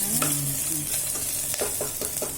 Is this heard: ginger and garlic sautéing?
yes